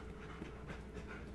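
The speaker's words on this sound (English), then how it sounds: "We have like five dogs in the kitchen." Dog panting in a kitchen, quick rhythmic breaths close by and fairly quiet, repeating steadily over a short moment.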